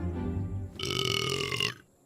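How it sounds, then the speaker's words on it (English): A single drawn-out burp from a character playing the Queen in a TV comedy, loud and close after a short spoken line, then quiet. "the Queen has done a burp"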